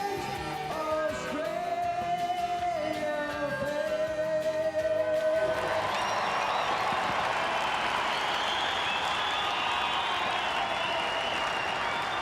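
Big crowd at a football grand final, a steady, broad roar and murmur filling the stadium throughout, with a voice singing over it early on before the crowd noise swells.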